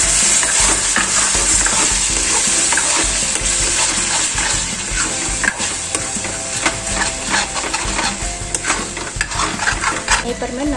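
Egg curry masala gravy fries loudly in a pan, with a dense continuous sizzle and repeated scraping strokes as it is stirred, and no voices.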